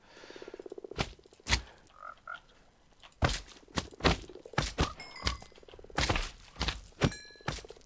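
Frog croaks from the Minecraft 1.19 snapshot, a series of short, thudding croaks and pops in an uneven rhythm, up close and fairly loud, mixed with game ambience and no talking.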